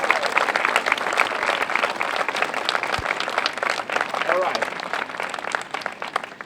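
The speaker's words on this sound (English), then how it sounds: "Please have a round of applause for our fifth students." Steady, dense applause from a school moving-up ceremony audience, many hands clapping continuously at an even level, with crowd voices mixed in.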